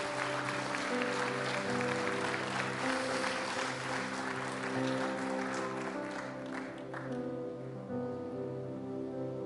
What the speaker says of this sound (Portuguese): Pode aplaudir o Senhor, meus irmãos.